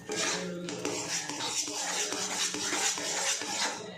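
A spoon scrapes and clinks steadily against a wok as thickened milk kheer is stirred while it dries and pulls away from the sides, a continuous busy metallic rasp close up with no talk.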